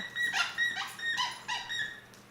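A dog gives a short run of high, whiny whimpers and yips, about four or five separate cries close by over a couple of seconds, with no talking.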